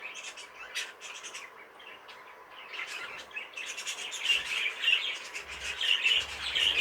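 A small bird chirps and tweets from inside a breeding cage, rapid bright calls in bursts that grow busier and louder toward the end, close by, with faint low knocks beneath.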